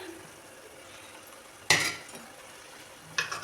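Egg biryani masala with green chillies and fried onions stirred in a pan, a faint sizzle under two sharp scraping clatters of a spoon against the pot.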